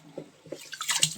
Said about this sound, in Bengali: তাই চলো এখন চালটা ধুয়ে নিই